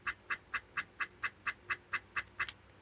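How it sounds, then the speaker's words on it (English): A Dean Ambrose wrestling action figure with dying batteries gives a steady run of eleven evenly spaced, chirpy electronic clucks or quacks, close and clear with no talk. "But his batteries died, so now he just clucks like a chicken."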